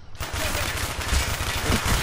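Black Ops video game gunfire, with a loud, dense burst of rapid automatic shots after a brief quiet start, continuing close and heavy to the end.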